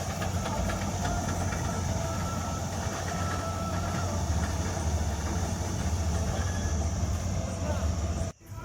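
A harvester and a tractor run together on a farm during the rice-paddy harvest, giving a continuous low diesel drone with a steady mechanical hum and faint voices underneath, cutting off abruptly at the end.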